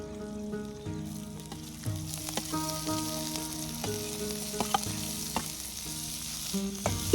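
Chopped onion fries in a pan over an outdoor village cooking fire, a steady close sizzle with occasional stirring clinks and scrapes running throughout.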